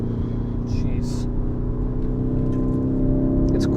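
A 2019 Lamborghini Urus super SUV, a 2.5-ton vehicle, accelerating on the road, its steady engine drone and harmonic hum loud and close inside the cabin, with people talking over it.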